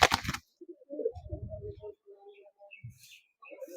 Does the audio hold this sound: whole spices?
no